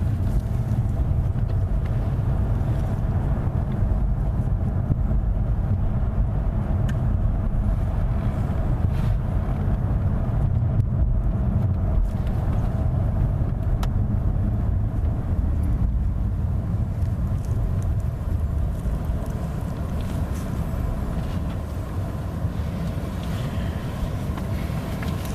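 Mercedes-Benz EQ electric car driving through Paris, a steady low road and wind rumble heard from inside the cabin, continuous and even throughout with no speech.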